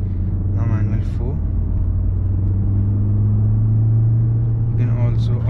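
A car with an automatic gearbox driven in manual mode is shifted up through its gears, giving a steady low engine hum with faint brief changes in tone; someone speaks over it.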